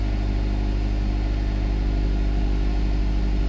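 A Lotus Emira's supercharged V6 idles with its valved exhaust opened in track mode, a steady deep close rumble with a slight throb and no voices.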